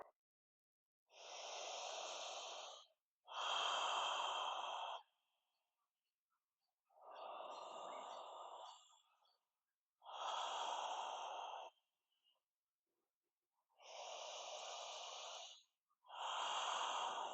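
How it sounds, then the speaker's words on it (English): Slow, deep yoga breathing sounds close and clear, with six long airy inhales and exhales separated by silent pauses in an even rhythm and no talking. "Taking 5 breaths here."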